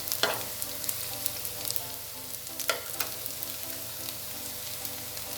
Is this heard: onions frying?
yes